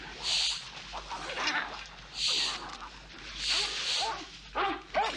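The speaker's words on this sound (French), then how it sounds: "Le chien passe d'un soldat à un autre," A dog fights soldiers in a film scene from Clash of the Titans, loud snarling barks and yelps coming in three or four bursts amid scuffling, close and aggressive.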